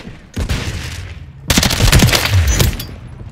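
Video game gunfire breaks out in bursts, first a shorter volley then a denser, louder stretch of rapid automatic shots that keeps rattling to the end, with no talk over it.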